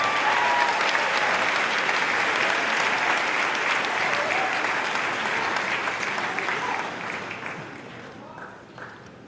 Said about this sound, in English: Let's give a round of applause for our scholarship winners.